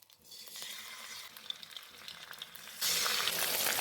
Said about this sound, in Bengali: মিডিয়াম ফ্লেমে মাছগুলো আমি ফ্রাই করে নিচ্ছি